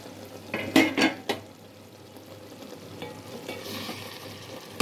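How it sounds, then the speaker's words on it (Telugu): Gongura, tomato and tamarind curry bubbles and sizzles in a pan as water cooks off, with a few sharp spoon-on-pan clanks and scrapes early on, then a soft steady simmer. "నీరంతా ఉడికిందాక ఉడకనిస్తాను ఫ్రెండ్స్"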